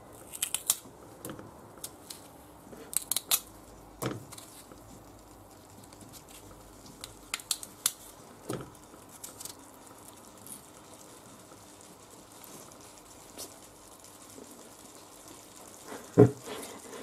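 Potatoes for a rabbit and potato stew are cracked apart with a knife, a series of sharp, scattered snapping clicks at close range over a quiet kitchen background.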